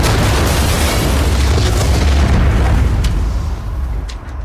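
A huge explosion from a World War II tank film roars loud and sustained, a dense rumbling blast that fills the whole stretch and only begins to fade near the end, with no voices over it.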